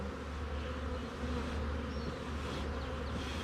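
Dense, steady buzzing of many bees, close and continuous, with a low droning hum throughout and no voices.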